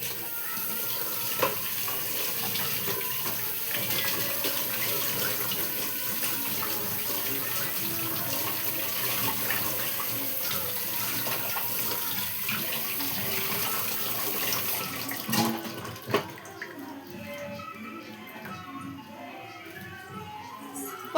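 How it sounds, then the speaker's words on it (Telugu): Coriander leaves are rinsed under a running kitchen tap, a steady close rush of water hitting a sink that cuts off near the end, leaving faint handling clicks. "కొత్తిమీర కడిగేసుకొని వేసుకుందాం."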